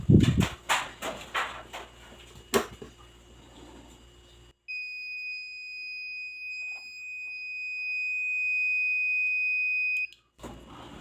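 STC-1000 incubator temperature controller sounding its error alarm on first power-up: a steady, loud, piercing electronic beep held for about five seconds, then cut off, following handling clatter.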